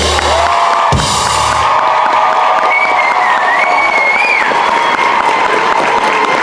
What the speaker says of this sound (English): That applause needed a whistle.